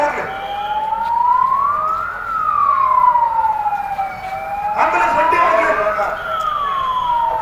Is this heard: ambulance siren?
yes